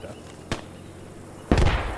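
Two sharp gunshots ring out in a first-person shooter video game, a short crack and then a louder, fuller shot about a second later, over quiet game background.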